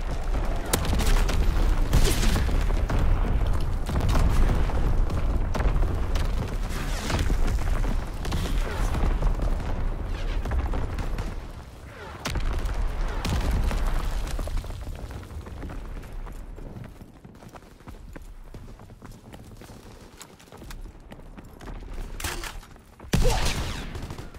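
Artillery and mortar fire in Call of Duty: WWII rolls on as a dense, loud barrage of booms and crackling gunfire, easing slightly toward the end before one sharp crack.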